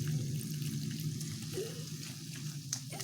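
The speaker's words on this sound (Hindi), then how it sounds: "इसमें 1 से 2 चम्मच हम पानी देंगे" Spoonfuls of water splashing into banana stem curry in a cooking pan, a soft watery patter over a steady low hum, with faint sizzling underneath and no talking.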